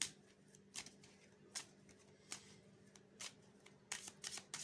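Oracle cards are shuffled for a tarot guidance reading, a run of soft, close, papery riffles and flicks in uneven bursts over a quiet room hum.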